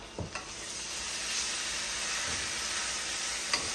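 Duck eggs with salt, cumin, ginger, garlic and chili paste sizzle in hot oil in a pan, a loud steady crackling fry with a few brief clinks and stirring scrapes, no voices.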